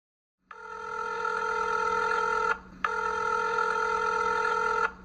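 A telephone rings in two long electronic bursts separated by a short gap, loud and close with a steady tonal buzz, alone with no voices.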